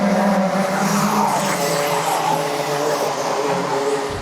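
A racing go-kart engine roars loud and close for the whole stretch, a steady high-pitched buzz with tire squeal as the kart sweeps past at speed on a karting track.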